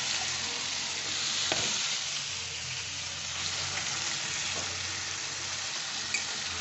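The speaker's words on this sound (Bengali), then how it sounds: "এইটা খুব ভালো করে কষে নিতে হবে।" Ginger and onion masala sizzles steadily in a pan while a spoon stirs it, a constant close frying hiss with occasional scrape and clack of the utensil, no voices.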